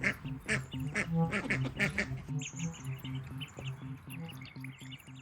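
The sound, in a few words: ducks quacking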